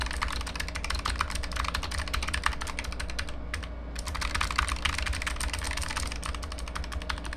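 Steady, rapid typing on a Razer Huntsman Mini mechanical keyboard with clicky switches, dense clacking keystrokes with a brief pause midway, close and continuous with no voices.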